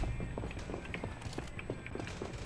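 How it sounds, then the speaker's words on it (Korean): Quick running footsteps in the battle royale shooter Farlight 84 patter in a fast, even rhythm, moderately loud over a dense game ambience with a faint voice underneath. "어, 앞에 발소리 난다."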